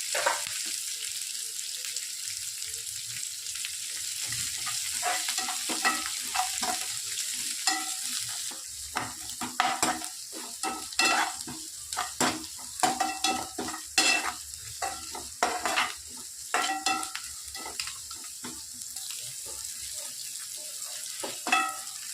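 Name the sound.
onions sautéing in a pan for idli upma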